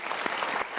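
Seminar audience clapping on cue from a motivational speaker: a brief, even burst of many hands at moderate loudness, with a few sharper individual claps standing out and no talk.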